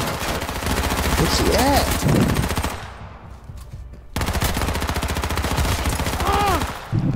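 Sustained automatic gunfire in the survival shooter H1Z1, loud, dense rapid bursts with a brief lull before firing resumes, while players talk over it.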